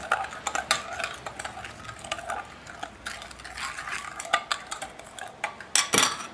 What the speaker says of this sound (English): Let's give that a bit of a stir.